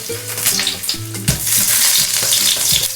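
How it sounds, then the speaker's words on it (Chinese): Garlic slices stir-fry in melted lard, a loud close sizzle with bursts of crackling as they are tossed, over a low tonal hum in the background. "油化开后下蒜片煸炒"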